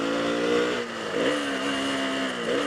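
A KTM Duke 200 motorcycle engine with a slipping clutch revs up and down without the bike picking up speed, giving a buzzing mid-pitched drone that rises, dips and climbs again in short surges.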